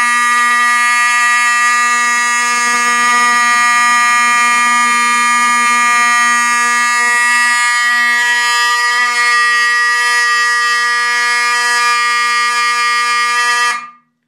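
A Wheelock 34T fire alarm horn strobe blares loudly and continuously in a harsh, buzzing tone for several seconds, then cuts off abruptly at the end.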